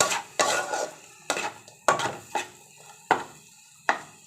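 Chow chow fry stirred in a pan on a stove, with a spoon scraping and clanking against the metal in six separate strokes over a faint sizzle, close and fairly loud with no voices.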